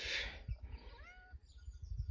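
Cats meowing up in a roof space on an off-grid homestead, a couple of rising, wavering cries in the middle amid low thumping and rustling noise.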